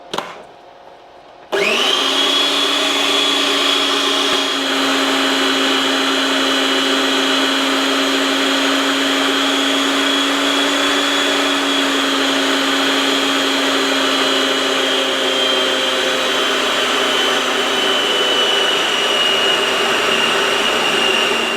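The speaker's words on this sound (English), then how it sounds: "I reckon it's quicker to whip it in a hand blender than it is in a food processor." A hand blender whips cream into butter with a steady, loud motor whine and a churning, slapping texture, running continuously and close after a short start, with no talking.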